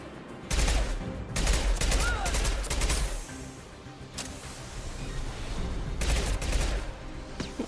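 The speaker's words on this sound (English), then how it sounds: "Can I even shoot that far with this weapon?" Weapon gunfire in the video game Mass Effect 2, with loud sustained bursts of rapid shots that come in waves and pause briefly, close and dense over a steady background rumble.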